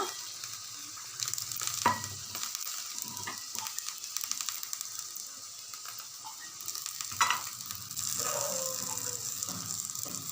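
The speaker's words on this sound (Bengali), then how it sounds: "দিয়ে ওপর থেকে বড়িগুলো ছড়িয়ে দেব।" Sun-dried lentil bori dumplings scattered into a pan of simmering bean and brinjal curry with water, producing a steady close sizzling bubble with a few sharp clinks and small splashes, no talking.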